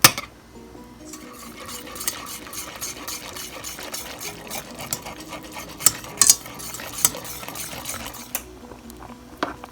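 Cheese being whisked into a macaroni and cheese sauce in a pot, with a steady scraping, clinking whisk against metal and sharper utensil knocks near the middle, close and moderately loud with no talking.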